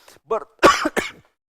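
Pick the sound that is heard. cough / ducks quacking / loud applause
cough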